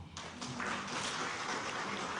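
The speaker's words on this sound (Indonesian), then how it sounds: "Tepuk tangan dong." An audience at an education talk gives a short round of applause, a fairly quiet, somewhat distant burst of clapping that stays even for a couple of seconds.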